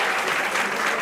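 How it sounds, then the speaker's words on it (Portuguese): A seated audience at a ceremonial event in Governador Valadares gives a short burst of dense, even applause that fills the moment with no talk. "Uma salva de palmas para esse momento."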